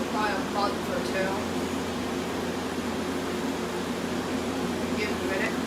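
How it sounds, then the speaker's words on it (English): A 1986 Friedrich Quietmaster 19000 BTU air conditioner runs with its compressor settled into a steady, even hum and broadband fan rush, constant and fairly close, with a few faint voice fragments near the start and end. "now the compressor has settled, and now you can really hear the pump really nicely"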